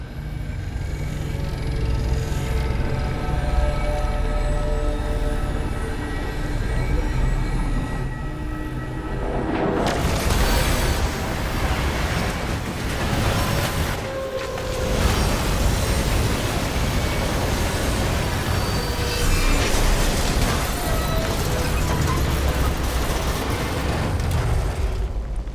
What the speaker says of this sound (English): I've seen primitive trains like this in old ruins.